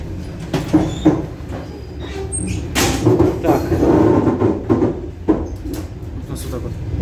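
Steady rumble of an ED4MK electric commuter train carriage in motion, with clanks and rattles of wheels on track, close and continuous.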